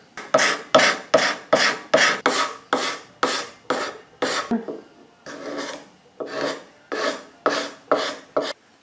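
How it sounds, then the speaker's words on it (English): A card scraper is pushed along the edges of a wooden cabriole table leg in rapid rhythmic strokes, about two per second, each a crisp close rasp, with a short pause midway. "now I'm back with this card scraper. I find it very good at smoothing over these edges here."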